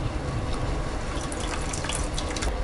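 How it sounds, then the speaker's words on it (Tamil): Steady running water rinses out a mixer jar and pours off while a Tamil pepper kulambu is cooked, a loud continuous splashing wash with no talk over it. "மிக்சியில் இருக்கிறத நம்ம வந்து நல்லா வாஷ் பண்ணிவிட்டு அப்படியே அதே தண்ணியவே ஊற்றிடலாம்"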